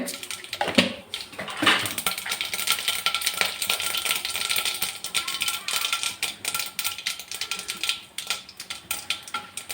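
Mustard seeds pop and sizzle in hot ghee in a pan for a sambar tempering, giving a continuous crackling, spattering hiss with dense small pops and a few louder bursts near the start.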